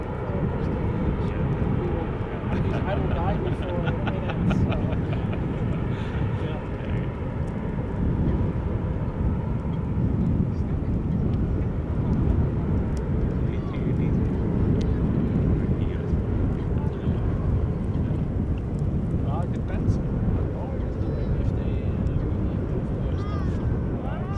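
A Suparna airliner turning and taxiing at Schiphol Airport gives a steady, broad jet-engine rumble from a distance, with some wind noise over the microphone.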